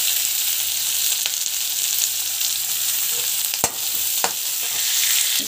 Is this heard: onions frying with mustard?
yes